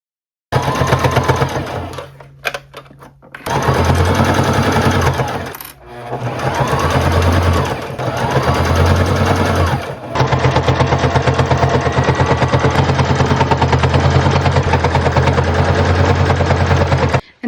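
A sewing machine runs loud and close while top stitching thrifted quilt fabric, a fast steady needle chatter in long runs broken by a few short pauses and restarts.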